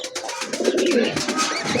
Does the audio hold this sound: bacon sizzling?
no